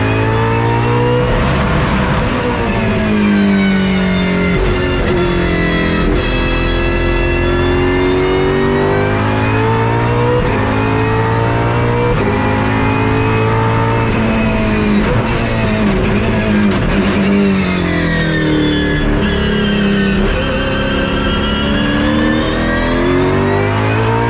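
Holden Racing Team race cars with straight-cut gears at Sandown race a lap, engines screaming through rising and falling revs with a whining gear howl, loud and close the whole way.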